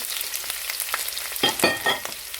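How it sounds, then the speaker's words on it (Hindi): Sliced onions hitting hot oil in a pan, giving a soft background sizzle broken by a few sharp crackling bursts as they fry. "अब इसी ऑयल में हम 2 प्याज डालेंगे।"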